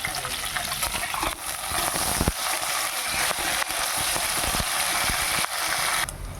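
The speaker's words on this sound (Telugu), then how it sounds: "ఉల్లిపాయలు, ఆనియన్స్ వేసుకుంటున్నాను. పచ్చిమిర్చి 4 వేసుకుంటున్నాను." Sliced onions and green chillies fry in hot oil with a steady, dense sizzle close by, broken by repeated spatula scrapes and knocks against the pan; no one speaks.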